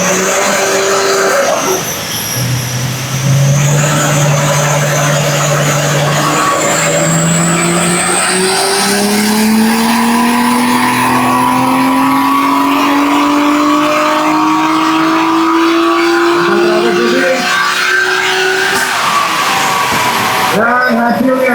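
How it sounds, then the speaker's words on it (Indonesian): A Nissan Skyline engine on a dyno test climbs through long, loud rising revs, its pitch sweeping upward in a sustained howl before dropping off at the end. "jadi itu tadi dyno test dari Nissan Skyline"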